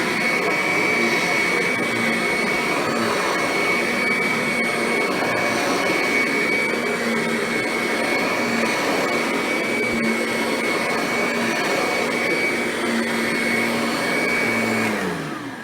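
Kirby vacuum cleaner running, comparing a Kirby G6 and a Kirby Ultimate G Diamond Edition, a loud steady whining drone close by for about fifteen seconds that winds down at the very end.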